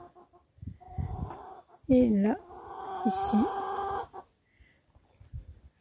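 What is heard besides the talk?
red hens clucking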